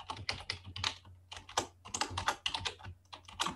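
Rapid typing on a computer keyboard at a terminal, a dense flurry of close, crisp key clicks in uneven bursts with short pauses, over a faint low hum.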